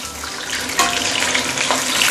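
Fish cutlet deep frying in hot oil in a wok, a continuous hissing, bubbling sizzle with a few brief clinks and scrapes as it is turned, fairly close and without talk.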